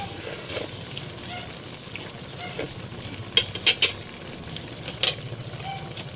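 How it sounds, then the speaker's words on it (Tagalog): A pot of sardine sinigang soup being stirred, soft scraping and clinking of a spoon against the pot over a low bubbling simmer, with a few sharper metallic taps. "ngayon ko lamang haluin yan"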